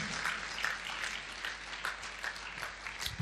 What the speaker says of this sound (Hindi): हम महिमा की ताली देंगे।